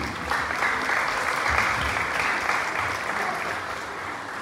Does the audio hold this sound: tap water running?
no